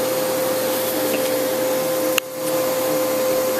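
A vacuum cleaner runs in a living room with a steady, close, continuous whir and a thin whine, dipping briefly about two-thirds of the way through before resuming.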